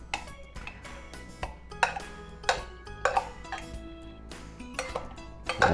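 Chicken pieces are tossed and coated in flour inside a bowl, giving irregular soft thumps and light clinks against the dish, close up and without speech.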